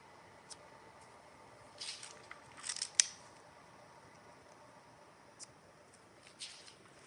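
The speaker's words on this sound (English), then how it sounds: "I might just go ahead and pull another card." A tarot card drawn from a deck during a live reading, soft papery shuffles and flicks in a few small clusters, quiet and close against a faint hushed background.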